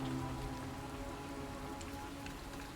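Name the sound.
harmful rain area effect in video game Othercide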